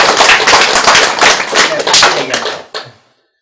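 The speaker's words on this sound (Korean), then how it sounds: "박수라도 쳐" A room of listeners at a Buddhist sermon on the Diamond Sutra breaks into loud, close clapping that rolls for about two and a half seconds before tapering off into a few last claps and silence.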